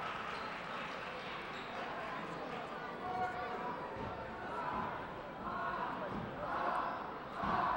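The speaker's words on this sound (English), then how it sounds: "You can hear the crowd right now." A high school basketball crowd murmurs and swells during free throws in a gym, the noise rising in waves toward the end under steady commentary.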